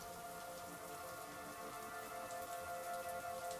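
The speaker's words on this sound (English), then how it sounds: "And you head out into the rain." Steady rain pattering on a surface, a dense continuous hiss of drops with no voices.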